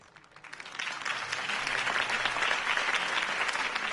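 Crowd applause at a campaign rally for Harvey Dent in Batman: The Telltale Series, swelling from scattered clapping into steady, sustained applause from a large audience.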